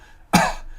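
A single sharp cough, close and loud, with a short trailing breath after it.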